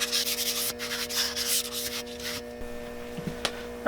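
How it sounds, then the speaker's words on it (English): Light, close strokes of 1000 grit sandpaper rub across a scrap-wood tortilla press in quick rasping bursts that fade to quieter scratches, with a faint steady hum behind them. "I like to just take a 1000 grit sandpaper and smooth out any roughness you might feel."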